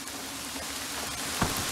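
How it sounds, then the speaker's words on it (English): Hail falling outdoors during an April snowstorm, a steady dense hiss of small impacts with a brief louder clatter near the end, no talking. "It's hail."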